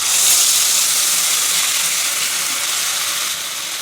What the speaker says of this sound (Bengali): এই যে এখানে আমি বেটে রেখেছি আদা, লঙ্কা, রসুন, পেঁয়াজ আর একটা টমেটো। এটা আমি সবটাই তেলে দিয়ে দেবো।